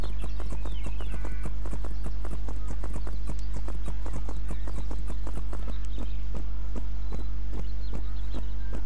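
Horse hooves clip-clop in steady, evenly spaced footfalls from a horse in the My Little Riding Champion video game, loud and close throughout over a constant low hum, with no talking.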